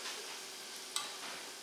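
Battered vegetable tempura frying in hot oil, a faint continuous hiss and sizzle with one small sharp click partway through.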